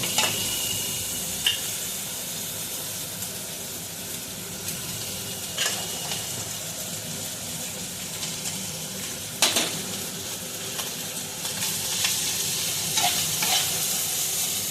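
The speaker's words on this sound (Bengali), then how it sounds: "আমি অল্প একটু ভাত নিয়ে এটার মধ্যে আমি মিশিয়ে নেব" Fried rice being stirred in a kadai, a continuous sizzle with repeated scraping of the spatula and occasional sharp metal clinks against the pan, close and steady throughout, no speech.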